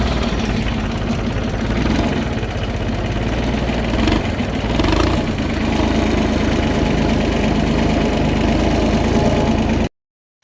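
A tractor engine runs steadily and loudly, close up, a constant throbbing drone that stops abruptly near the end; the tractor is hitched to drive a fodder chaff cutter.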